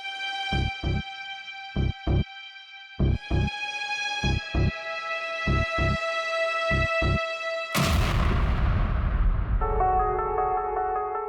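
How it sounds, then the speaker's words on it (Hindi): TV drama music with sharp rhythmic hits, then a sudden loud blast of a laptop exploding that rumbles and fades, followed by a faint tone. "धमाका लैपटॉप में हुआ।"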